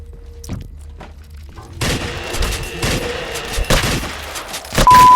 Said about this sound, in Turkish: Tüm şarjörü boşalttım yine ya.